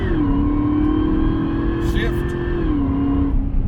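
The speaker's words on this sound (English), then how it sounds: "listen how slow this thing changes gears when I tap it" Cadillac CTS-V engine droning at steady revs, its pitch sliding down as a slow paddle-shift gear change goes through, loud and close from inside the car.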